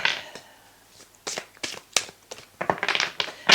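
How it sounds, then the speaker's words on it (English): Tarot cards being shuffled by hand: a run of soft papery riffles and taps in uneven bursts, close and fairly quiet, growing busier toward the end. "I'm shuffling for the last card for Taurus"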